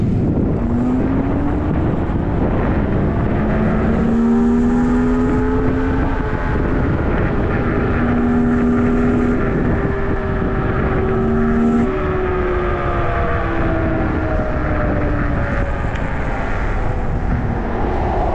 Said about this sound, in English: What's this helicopter doing